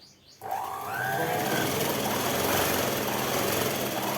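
After a brief quiet moment, a sewing machine starts up and runs a continuous fast stitching whir along the shoulder seam of a night dress, steady and close.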